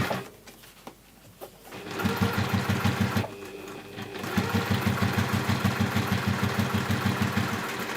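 A sewing machine stitches a zip onto a washbag, running in two sustained bursts of rapid, even needle clatter after a short pause, close and fairly loud.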